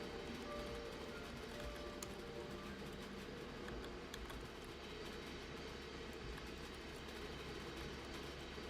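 Locomotive in the railway game Infinite Rails running steadily, a constant low rumble and mechanical drone with faint clicks, even and continuous, no talking.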